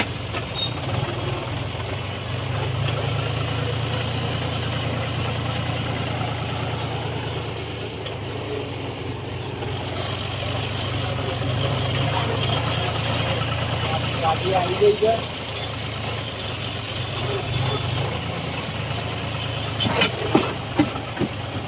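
Tractor engine running steadily in a low, rumbling idle throughout, with voices talking over it and occasional knocks near the end.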